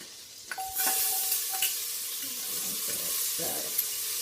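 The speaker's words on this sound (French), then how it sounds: "Là, je commence à frire mon lapin." Rabbit pieces fry in a pan with a soft, continuous sizzle, punctuated by a few light clinks and a brief tone near the start, fairly quiet overall.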